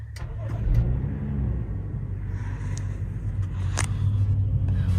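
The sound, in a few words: car engine starting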